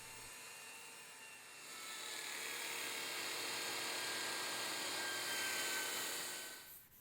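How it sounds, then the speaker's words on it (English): A steady high-pitched whirring hiss of sandpaper against a wooden bowl spinning on a lathe, swelling in intensity midway and cutting off near the end. "with the right equipment and the correct sanding grits, the bowl will soon be silk smooth"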